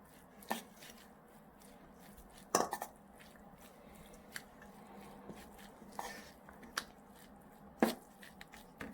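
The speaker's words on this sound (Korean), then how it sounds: "이렇게 해서 밥을 넣고요. 이제 잘 섞어주세요." Cooked rice being mixed in a bowl for kimchi rice balls, sparse soft taps and clinks of a utensil against the bowl at irregular intervals, quiet and close with no talking.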